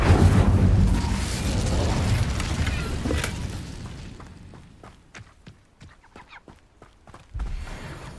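A fire spell cast in the video game Hogwarts Legacy, a loud roaring burst of flame that fills the opening seconds and fades into a run of sharp clicks and pops, with a thump near the end.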